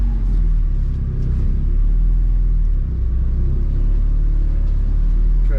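A Honda EK hatchback with a straight H22 engine drives along, its engine holding a loud, steady low rumble and drone from inside the cabin, with no voices.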